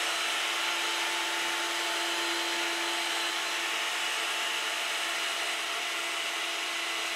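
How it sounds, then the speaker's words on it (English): A router bit cutting flutes into a wooden lamp post, a continuous high-speed whine with a steady broadband rush and a constant tonal hum, loud and unbroken throughout. "I drop the workpiece on the bit as well as lift it at the appropriate point at the end of the cut."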